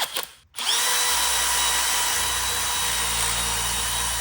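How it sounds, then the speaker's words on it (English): A drill spinning a wire brush to clean car parts on a drift car, starting with a quick burst and then running as a loud, continuous high whine with steady scratching grind. "I'm gonna take a drill, a wire brush, and then just kind of go crazy and clean all this up."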